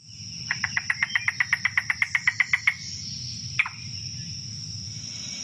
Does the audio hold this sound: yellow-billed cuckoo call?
yes